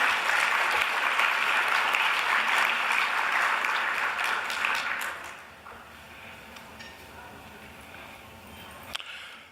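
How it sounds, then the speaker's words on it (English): Audience applause at a national scholarship luncheon, a dense roar of many clapping hands for about five seconds that then drops away to quiet room noise with a few stray claps. "Let's give all of them another round of applause"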